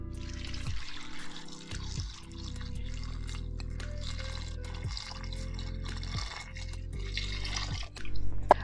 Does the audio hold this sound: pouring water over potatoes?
yes